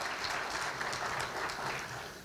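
At a school district's State of the Schools event, an audience claps for Mike Holbrook, a soft, distant and steady patter of many hands lasting only a couple of seconds.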